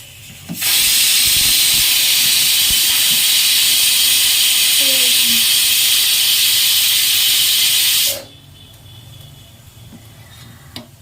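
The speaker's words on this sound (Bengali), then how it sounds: "এখন এই যে লেবুর রসগুলো ধীরে ধীরে দুধের মধ্যে ঢেলে দিয়ে দুধটা কাটিয়ে নেব" Lemon juice is poured into boiling milk to curdle it, with a loud, steady steamy hiss from the pot for most of the stretch that cuts off abruptly near the end, leaving quiet room sound.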